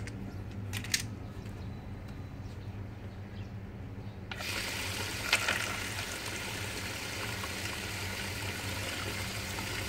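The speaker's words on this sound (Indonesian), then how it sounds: "Terlihat air mengalir karena level airnya masih rendah" Water begins flowing through a float valve partway through, a soft continuous trickling hiss that starts abruptly and then holds steady at low volume, with a few faint clicks beforehand.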